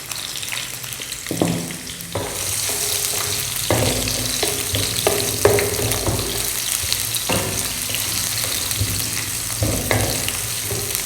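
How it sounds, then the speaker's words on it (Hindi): About 100 grams of onion for butter chicken dropped into hot oil and frying, a steady loud sizzle with scraping stirring clatters from a utensil in the pan, close up and without talking. "गर्म हो गया, उसके बाद हम प्याज डाल देंगे।"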